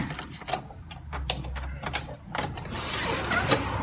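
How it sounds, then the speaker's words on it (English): A door is unlatched and opened on the way downstairs to snow, giving a series of close mechanical clicks and a low grinding slide, followed by a rush of outdoor noise. "Let's open the door."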